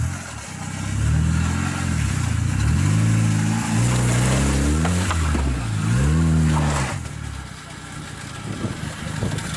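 A Fiat Panda 4x4 on a Yorkshire Dales green lane revs hard in repeated rising and falling surges, with the engine close and loud throughout before easing back near the end.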